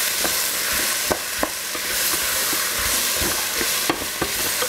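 Tomato paste roasting in a hot pan for a black beer sauce, with a steady, close sizzle and the sharp scrapes and clicks of a utensil stirring it every so often.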